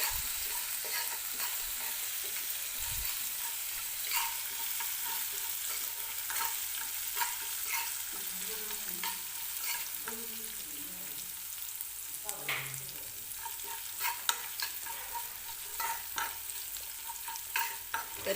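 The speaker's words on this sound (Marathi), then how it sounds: "मिरची जी आहे ती तेलामध्ये आपल्याला परतून घ्यायची आहे" Green chilies fry in oil for potato and semolina cutlets, a steady close sizzle layered with frequent scraping stirs and light clinks of the utensil throughout.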